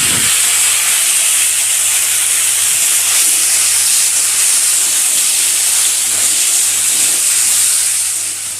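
Cut potatoes fry in a pan with browned onions, giving off a loud, steady, hissing sizzle that continues for several seconds with no talking.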